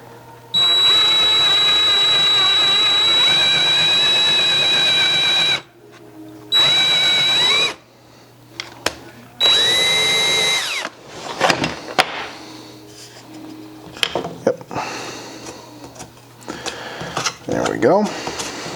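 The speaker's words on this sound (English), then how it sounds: "first we're just going to drill the countersink" A power drill bores a countersink in several bursts, a steady high whine lasting about five seconds, then two shorter runs, followed by clattering handling noises and talk.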